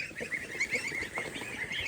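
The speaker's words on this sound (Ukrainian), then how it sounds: "це в нас стара гусочка" An old goose on a poultry farm honks repeatedly in a steady run of nasal calls, close and fairly loud, with faint farmyard bustle underneath.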